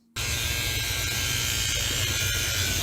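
An electric shaver switches on abruptly and buzzes steadily and loudly, a close, continuous motor hum with no talking.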